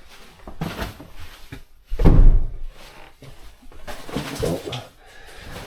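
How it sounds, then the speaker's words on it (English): Several dull thumps of bothy doors being shut in Wales, one loud heavy slam in the middle, with rustling and shuffling around them. "Make sure I shut all the doors."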